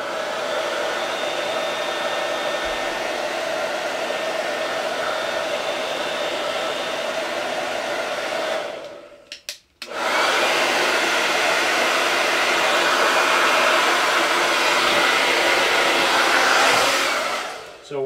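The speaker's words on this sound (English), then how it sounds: "I'm going to grab our hair dryer and kind of get it to cool" A hair dryer blows steadily at close range to dry transfer paste on a mug, a constant airy whir that cuts off briefly, then starts up again and continues to the end.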